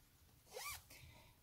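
A zipper on a knitting bag is pulled open in one quick, faint rising zip, close to the microphone in a quiet room.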